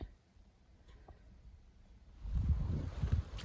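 Quiet outdoor air at first, then gusty wind buffets the microphone with a low, rumbling roar for the last second or so.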